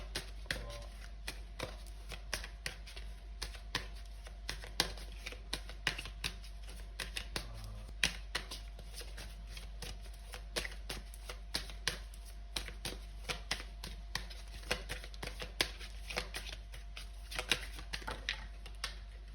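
Tarot cards being shuffled in steady, quick riffling bursts, a continuous papery flutter of soft clicks repeating close by, with no talking.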